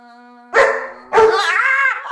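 A dog barks twice, loud and close: a short first bark, then a longer, drawn-out second one, both over a faint steady tone and with no speech.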